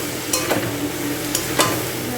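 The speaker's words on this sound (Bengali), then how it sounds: "ভাজা মাছগুলো মশলাটার মধ্যে দিয়ে ভালো করে এটাকে এখন কষাবো" Fried dried fish being stirred into a spice masala in a pan, a steady low sizzle with a few scraping stirs of the spatula, close and moderately loud.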